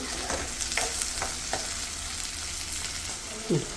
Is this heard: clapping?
no